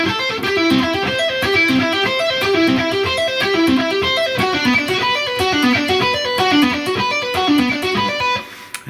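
An electric guitar plays string-skipping arpeggios in a fast, even stream of notes that cycle through repeating chord shapes, with a slightly driven tone, alone and continuous.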